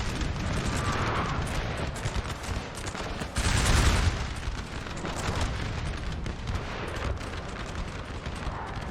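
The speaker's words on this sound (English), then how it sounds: "Why do I hear canister firing?" Artillery firing canister shot in a Napoleon Total War 4v4 battle, Austrian forces in the field: dense rolling volleys and gunfire crackle rumble continuously, with a heavier boom around the middle, no talking over it.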